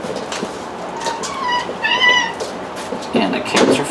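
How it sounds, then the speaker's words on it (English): Cats meow in a workshop, with a drawn-out yowl in the middle and shorter cries near the end, heard from close range over low background noise. "And the cats are fighting."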